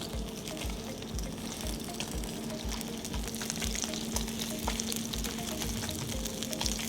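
Salmon sizzles in a hot skillet as a glaze is added, a soft, continuous frying hiss with faint bubbling and light clicks throughout.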